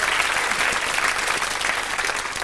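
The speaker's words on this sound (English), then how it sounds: "I think that deserves a round of applause." A studio audience applauds steadily and loudly at a Sooty show, dense clapping filling the whole moment without pause.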